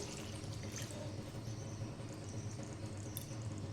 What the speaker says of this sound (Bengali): এবার পরিমাণ মতন জল দেবো।